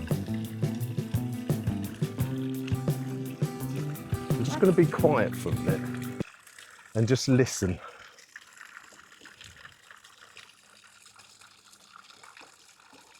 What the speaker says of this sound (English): You can't beat the sound of running water.